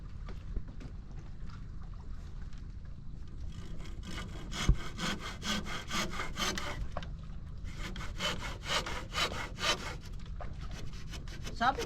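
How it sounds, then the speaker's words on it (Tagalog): A new hand saw cutting through wood beside a hut, heard as rapid, rhythmic rasping strokes, close and fairly quiet, over faint outdoor background noise. "Sabi may biniling bagong lagari."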